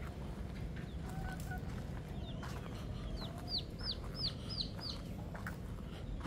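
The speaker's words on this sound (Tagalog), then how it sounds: "Yung mga manok naman natin guys, nandito, oh" Chickens out in a yard giving short upward calls in a quick series over steady outdoor background noise, with no talking.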